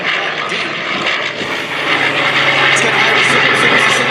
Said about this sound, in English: Launching behind Stan in the F4U, you see that tail hook is down on the bottom of the F22